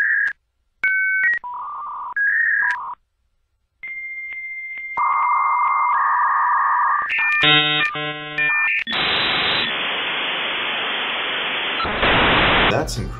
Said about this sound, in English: the modem switches from the handshake tones to a more continuous sound that represents the data being sent and received